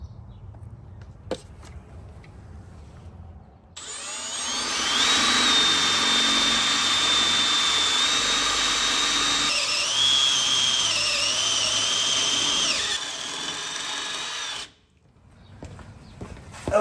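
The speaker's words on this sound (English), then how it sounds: "since I just drilled a hole through metal" A power drill with a unibit bores a hole through steel during a Jeep Gladiator lift kit install. A loud, steady whine with a rising squeal runs for about ten seconds, then cuts off into quiet shop background.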